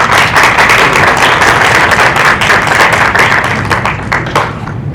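A crowd applauds steadily and loudly through the whole stretch at a formal water-authority event in Peru, dense clapping with no talk over it, thinning slightly near the end.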